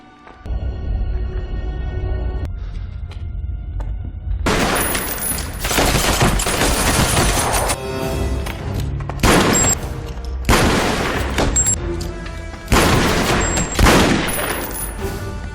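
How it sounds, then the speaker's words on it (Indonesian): Rapid gunfire fills a film action scene as a shootout breaks out, with loud sharp bursts and repeated volleys over a constant rumbling background, no talk. "terjadilah aksi tembak-tembakan"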